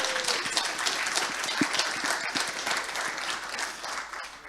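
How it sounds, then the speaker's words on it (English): Applause from a gathered alumni audience, a dense steady wash of many hands clapping that continues evenly throughout and tapers slightly at the end. "So I think that deserves one more round of applause."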